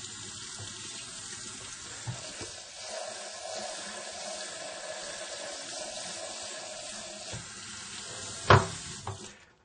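Tap water runs steadily onto sprouting seeds in an EasySprout sprouter, a continuous rinsing splash that stays even throughout, with a brief louder clatter near the end.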